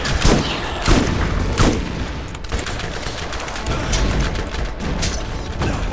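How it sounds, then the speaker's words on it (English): Rocket launcher in a video game firing, with repeated booming blasts and explosions over about six seconds, loud and close, amid a busy battle mix of mechanical noise. "Rocket launcher."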